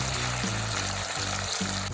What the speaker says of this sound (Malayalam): അപ്പോൾ ഇതുപോലെ നമുക്ക് ആ 2 സൈഡും കറക്റ്റായിട്ടൊന്ന് മൂത്ത് വന്നവരെ ഒന്ന് വറുത്ത് എടുക്കാം